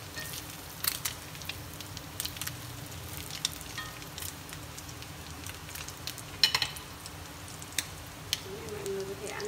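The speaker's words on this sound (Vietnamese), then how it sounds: "Mình sẽ chiên vàng đều hai mặt" Green rice rolls frying golden in cooking oil or lard, a steady soft sizzle running throughout with faint crackles and pops, no talking.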